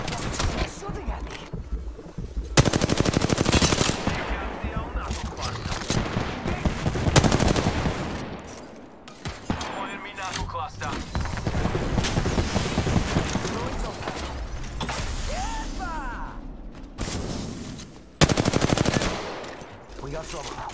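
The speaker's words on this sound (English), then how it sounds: "He's shooting at me." Automatic weapon fire rattles through an Apex Legends match in repeated loud, close bursts, some sustained and some short, over game effects and occasional player talk.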